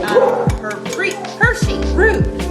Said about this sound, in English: Hershey barking